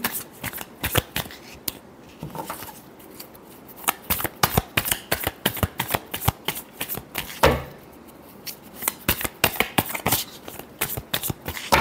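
Tarot cards are shuffled by hand in rapid, close riffles and taps, a long run of crisp rhythmic flicks with one brief louder bridge in the middle.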